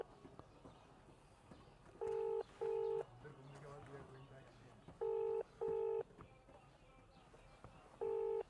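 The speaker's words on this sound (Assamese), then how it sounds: "খাম তো ফোন লগালোঁ আমাৰ নিপেন দাক" A phone dials out with bursts of keypad tones in pairs and singles, clear and close, while a voice talks quietly in the background.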